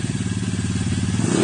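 A motorcycle engine running close by with a fast, throbbing exhaust pulse, climbing in pitch as it revs up toward the end, loud and alone without talk.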